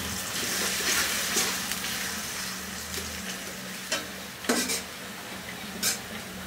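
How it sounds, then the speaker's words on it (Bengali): Chopped onions fry in the same hot oil used for a Bengali begun bahar, giving a steady close sizzle broken by a few sharper scrapes and clinks of stirring. "এখন সেই একই তেলে আমি কিছু পেঁয়াজ কুচি দিয়ে ভেজে নিব এটাকে একটু হালকা বাদামি হওয়ার রং পর্যন্ত।"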